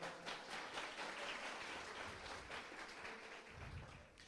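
Congregation applauding during a church talk, a steady spread of many hands clapping at moderate distance, holding fairly even with a brief low rumble near the end.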